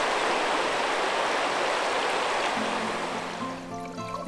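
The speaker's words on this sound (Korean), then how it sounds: "강은 잠시도 멈추지 않습니다. 맑은 물이 흐르는 하천의 중상류." Clear water of a mid-upper river stream rushing and splashing in a constant close hiss, with a faint tonal hum entering toward the end.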